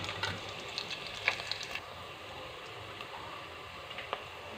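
Green chillies and onion frying in a pan for an okra curry, a faint steady sizzle with scattered small ticks and pops, quiet and without talk.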